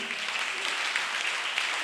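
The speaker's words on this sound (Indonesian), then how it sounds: "Berikan tepuk tangan bagi Tuhan." A church congregation claps together in a steady, dense wash of applause, moderately loud and sustained throughout the short moment.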